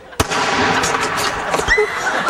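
A single sharp gunshot cracks near the start, loud and close, followed by an ongoing rumbling outdoor noise and a few smaller knocks.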